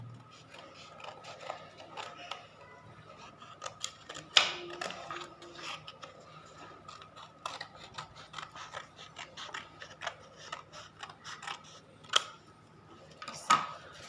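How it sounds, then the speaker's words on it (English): Paper being folded and cut with scissors for origami: scattered crisp snips, creases and rustles, faint and close, irregular clicks and rasps with a few sharper cuts standing out. "You will fold the paper and make this line and cut extra paper from here."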